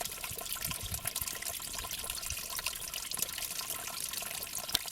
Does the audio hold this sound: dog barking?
no